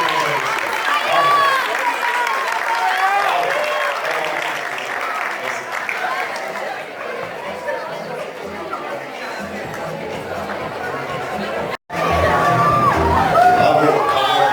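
Audience applause breaks out at a graduation-style ceremony in Tangier, Morocco, with steady clapping mixed with crowd chatter and a few whoops, loud and continuous, with a brief cut near the end before it resumes.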